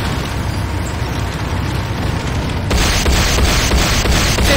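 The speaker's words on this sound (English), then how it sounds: "Ion cannon beacon." An ion cannon strike detonates in the Command & Conquer Renegade video game: after a stretch of background rumble, a sudden loud blast erupts and gives way to a sustained heavy roar with repeated booming pulses.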